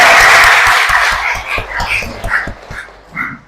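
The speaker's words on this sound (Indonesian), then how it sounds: "Tepuk tangan untuk kalian semua." Students in a classroom clap together in a dense burst that thins out within about a second, followed by scattered voices and a few lighter, intermittent sounds.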